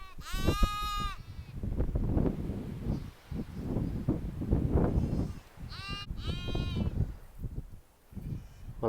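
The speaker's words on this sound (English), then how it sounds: "Oh, little black sheep. Where's all your friends?" A little black sheep bleats in two distinct wavering calls, one at the start and one later, separated by rustling, breezy outdoor noise.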